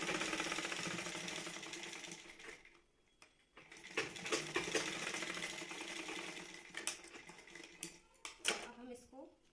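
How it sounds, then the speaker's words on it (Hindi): A sewing machine stitches along folded blouse fabric in a fast, rhythmic mechanical chatter. It pauses briefly and starts again in short bursts, while a voice talks over it close by. "फोल्ड करके हम फिर मशीन चलाएंगे सिलाई के ऊपर।"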